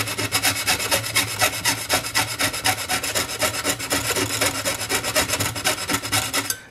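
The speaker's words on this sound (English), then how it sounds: "keep your saw vertical and support both sides of the metal so that you're actually sawing in this groove" Steady back-and-forth strokes of a hand saw cutting through metal for a pierced spatula, a rhythmic rasping at an even pace, close up with no talking.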